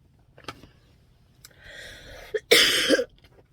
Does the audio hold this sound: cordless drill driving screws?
no